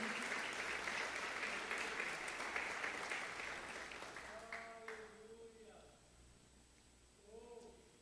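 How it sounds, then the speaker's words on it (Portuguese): A church congregation applauds in a dense, steady wash of clapping that gradually fades over about four seconds, then a voice takes over. "Pode aplaudir ao Senhor"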